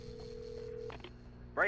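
Telephone dialing at a gas station in the video game Alan Wake: a steady tone hums for most of the clip, then a short burst of tones arrives at the end, over a low ambient background.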